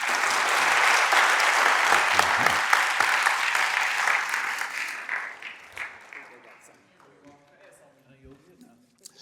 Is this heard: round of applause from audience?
yes